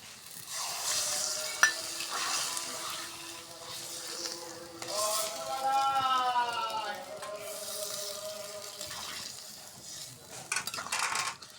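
Steady sizzling of taro and potatoes frying in spices in a pan, with a utensil scraping and stirring throughout, and occasional clinks.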